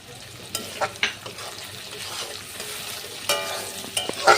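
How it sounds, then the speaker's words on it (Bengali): Spices sautéed with chopped tomato, green chillies and ginger paste in a pan, a soft continuous sizzle broken by sharp spoon scrapes and clacks against the pan, close and unaccompanied by talk. "টমেটো কুচি, ভালো করে কিন্তু কষিয়ে নিতে হবে সব মশলা"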